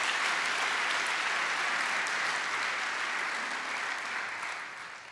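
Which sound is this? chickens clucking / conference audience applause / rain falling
conference audience applause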